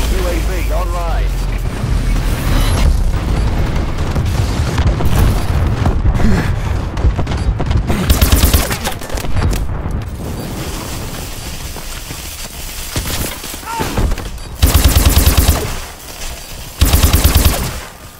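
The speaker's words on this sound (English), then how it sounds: "Enemy bombing run incoming!" An enemy bombing run and gunfire in Call of Duty: Advanced Warfare, with rumbling booms and rattling shots, game voices talking over the din, and several loud explosive bursts near the end.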